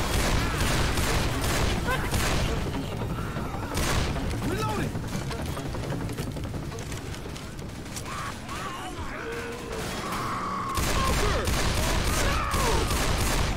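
Gunfire in the Left 4 Dead zombie shooter: rapid, dense bursts of shots with clanking weapon mechanisms and a brief lull mid-way, loud and continuous, with game voices talking over it.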